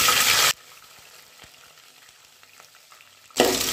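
Onion and garlic frying in sesame oil with fenugreek and fennel produce a bright, loud hiss at the start and end, with a quieter gap of faint crackles and soft taps between.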